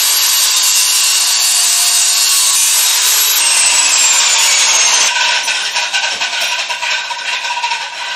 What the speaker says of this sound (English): And I want to cut the axle there.